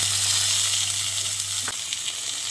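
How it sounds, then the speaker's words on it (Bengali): Chopped tomato sizzles as it hits potatoes already frying for a vegetarian jackfruit dish, a steady bright hiss with a low hum underneath that cuts off partway, leaving the sizzle alone and close. "এবার আমি এই পর্যায়ে একটা টমেটোকে কুচিয়ে দিয়ে দিচ্ছি"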